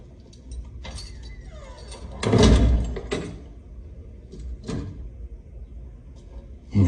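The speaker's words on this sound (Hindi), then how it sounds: "जरा दरवाजा बंद करके जाना।" A door is pushed shut with a scraping slide and a heavy thud, followed by a couple of fainter knocks and a final bump, in a quiet indoor room.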